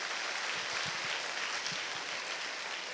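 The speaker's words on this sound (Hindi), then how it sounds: "अपने माता पिता के लिए और अपने लिए जोरदार तालियां बजाइए" Audience applause at a school menstrual hygiene awareness program, a steady broadband wash of clapping from a crowd, continuous and fairly even throughout.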